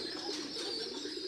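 Pigeons coo steadily and close by at a village house, a continuous soft, throaty murmur with no speech over it.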